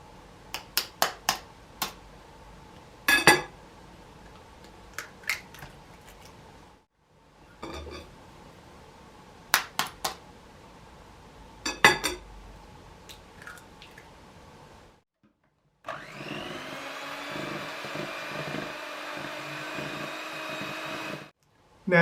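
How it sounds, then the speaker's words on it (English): Eggs for sponge drop cakes are whisked in a bowl, with bursts of quick, close clinking strokes separated by pauses, then a steady whirring stretch near the end. "whisk the eggs."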